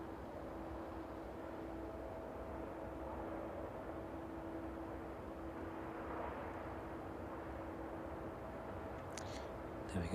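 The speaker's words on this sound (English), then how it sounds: "the DHL 757 in from Reykjavik this evening" A DHL Boeing 757 arriving from Reykjavik at East Midlands Airport in the evening, a steady distant roar of engine noise with a faint droning tone, heard from afar without speech.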